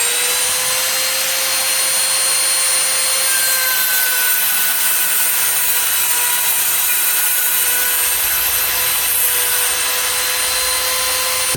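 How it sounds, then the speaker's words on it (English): A Dremel with a saw-teeth wheel cutting through a piece of plastic, a loud continuous high-pitched whine with sharp tonal harmonics and gritty rasping, steady and close throughout with no talking. "Now I'll be cutting a piece of plastic here."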